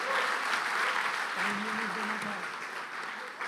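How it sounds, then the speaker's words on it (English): Audience applause for the Unique team at a US CMA convention, dense continuous clapping filling the whole stretch, loud and steady, with a voice speaking briefly over it partway through. "A huge round of applause for Unique team."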